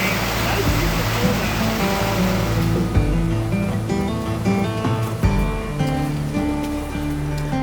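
Rushing water pours loudly at the Devil's Bathtub swimming hole in the Appalachians. The roar is strongest at first, then sinks beneath steady music.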